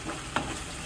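Spice masala fries in a pan, a short, even sizzle with one quick scrape partway through.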